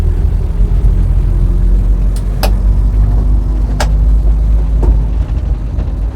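A Standard Atlas pick-up drives slowly around a tight loop on nearly full steering lock, its engine a steady, loud low rumble heard from inside the cab, with a few faint squeaks and clicks over it.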